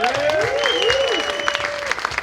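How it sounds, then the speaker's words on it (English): Audience applause for a newspaper columnist at a producers panel, a steady wash of clapping lasting a couple of seconds with faint voices mixed in. "Round of applause for Nina Metz."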